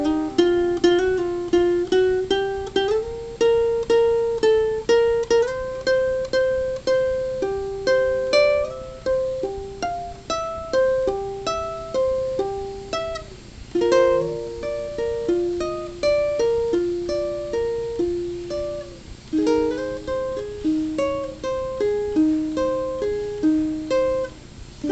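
Ukulele picking the intro of a song, a steady run of clear plucked single notes with ringing harmonics, played alone and fairly loud for the whole stretch.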